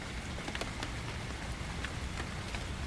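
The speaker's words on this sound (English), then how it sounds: "The sound of the rain becomes the only reality." Steady rain falls through a forest, a soft, even hiss with scattered close drips and patters standing out, heard alone and fairly quiet.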